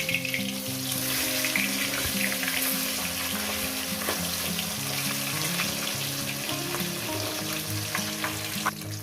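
Katla fish pieces fry steadily in hot oil, giving a loud, continuous close sizzle with scattered crackles and no talking.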